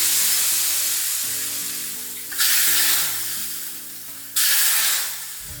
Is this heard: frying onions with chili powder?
yes